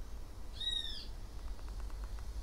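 A single clear bird call, an owl-like tonal cry, rings out once in the surroundings during a quiet meditation, followed by a faint run of soft repeated chirps in the background.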